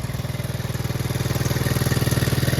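A 1975 Honda Z50J minibike engine idles close by with a steady, rhythmic low putter that swells slightly louder, with no talk.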